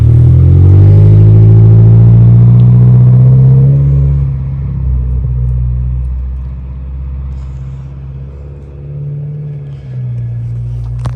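A 2022 Subaru WRX engine with an aftermarket exhaust and blow-off valve idles with a deep, throaty exhaust rumble, settling lower and steadier after an initial louder stretch, close and continuous.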